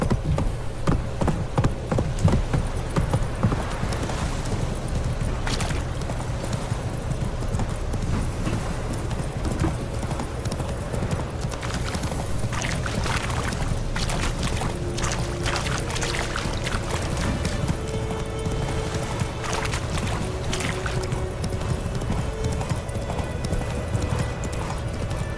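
Roach, Geralt's horse in The Witcher 3, gallops in steady rapid hoofbeats for the full stretch, close and loud, over a low ambient game-world bed with an occasional faint whinny.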